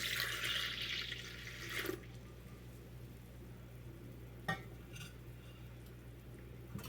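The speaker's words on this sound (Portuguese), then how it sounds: "vou mexer aqui um pouco" Milk, yeast and sugar being stirred together in a bowl for soft milk bread, a wet swishing scrape for about two seconds, then quieter faint clinks and stray taps against the bowl.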